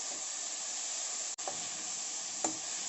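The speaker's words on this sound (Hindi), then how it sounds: "अब इसमें टमाटर डाल देंगे और अच्छी तरह से मिक्स करेंगे इनको।" Tomatoes with red chilli powder and turmeric frying in a pan, a steady close sizzle and hiss that runs throughout, broken by a brief stir or two.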